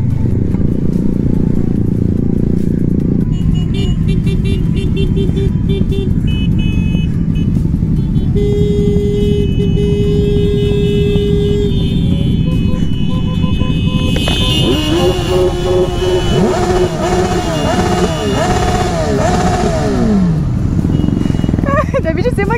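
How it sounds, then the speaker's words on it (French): A small motorcycle with a small exhaust runs steadily nearby at a charity moto rally, its buzzing engine note rising and shifting with revs, while other bikes, reversing beeps and people's voices mix in the background. "c'est une petite moto avec un petit pot d'échappement"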